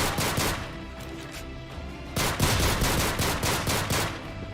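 Rapid video game gunfire from Call of Duty: Modern Warfare II multiplayer, a steady stream of automatic shots with a brief pause partway through, loud and close with no talking.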